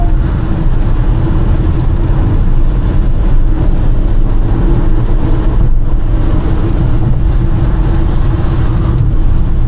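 Steady, loud road and engine drone inside a 2025 Honda Elevate cruising at high speed, a dense low rumble with tyre noise continuing without a break.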